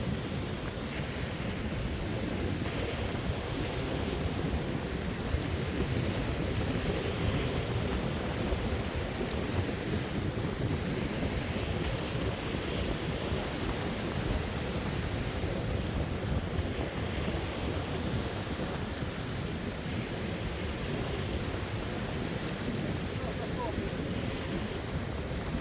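Strong wind gusts roaring steadily across a rocky sea shore, with surf washing below and buffeting noise on the microphone throughout.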